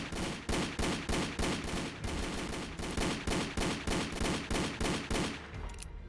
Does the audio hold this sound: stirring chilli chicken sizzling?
no